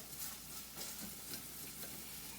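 Shallots sizzle steadily in a hot pan while crisping, a close, even hiss of frying that continues without a break and without voices.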